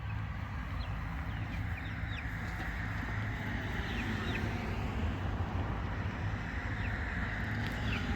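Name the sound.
chicken clucking by an electric poultry fence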